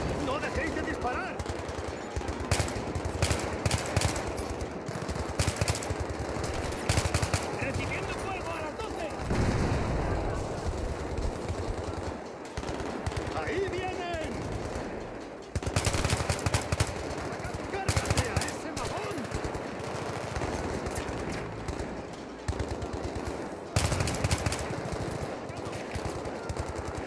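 Sustained Battlefield 3 combat gunfire on PC: loud, continuous machine-gun bursts and rifle shots run almost without pause, with heavier volleys recurring and soldiers shouting over them.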